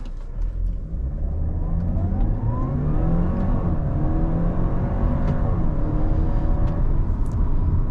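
A 2018 Audi A4 S-Line with all-wheel drive and sport suspension accelerates hard in manual mode, its engine rumbling and climbing through rising revs with audible gear changes, loud and steady from inside the cabin.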